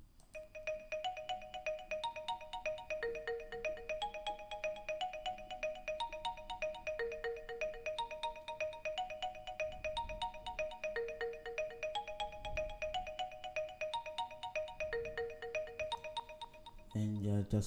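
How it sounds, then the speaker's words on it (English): A bright marimba lead from a Purity synth plugin plays a looping, bouncy melodic pattern with delay for the whole stretch, steady and close, with a low thump near the end. "This is a marimba, so it sounds like this."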